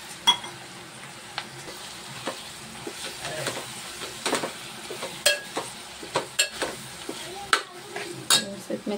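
Wal papdi (hyacinth bean) vegetable being stirred in hot oil with cumin and spice mix, giving a steady soft sizzle broken by sharp scrapes and knocks of a utensil against the pan.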